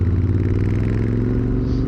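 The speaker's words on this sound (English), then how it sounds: "650cc parallel twin engine, and it has got quite the kick to it." A Royal Enfield Interceptor 650 with a 650cc parallel twin engine runs close by, a loud, steady low throbbing idle or rev held for about two seconds.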